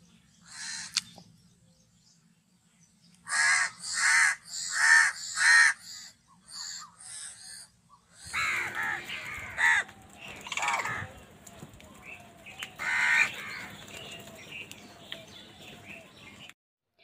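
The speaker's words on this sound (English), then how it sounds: "C for crow." A crow caws in a quick run of harsh calls, then gives more scattered caws over a busy outdoor background, with some calls overlapping and others spaced apart.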